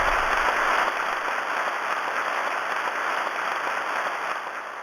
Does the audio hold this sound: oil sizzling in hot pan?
no